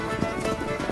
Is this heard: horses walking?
yes